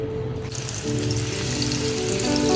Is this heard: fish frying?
yes